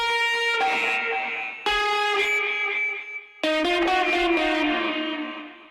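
Electric guitar played through a distortion effect in Reason 13.1 music software, three loud sustained chords with a fuzzy, saturated tone and reverb tails, each ringing out before the next strum.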